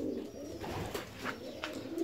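Fancy pigeons coo softly in a repeated, low throaty murmur, close by, with faint chirps in the background and no one talking.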